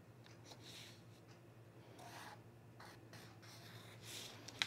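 Pen or marker drawing a line across paper on a men's utility jacket sewing pattern, a faint, steady scratchy rubbing in short strokes that runs alone and close, ending with a small tap.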